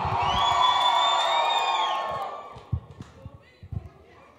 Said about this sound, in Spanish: Alguien dé un grito de guerra.